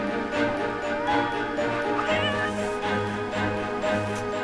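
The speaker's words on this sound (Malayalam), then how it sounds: "ഛേ, പൂച്ചയായിരുന്നു." A cat meows repeatedly in drawn-out, wavering cries, close and loud, with a constant background hum.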